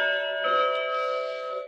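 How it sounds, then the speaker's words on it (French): A single bell rings out alone with a clear, sustained metallic tone that slowly fades over a couple of seconds. "Hop, la cloche."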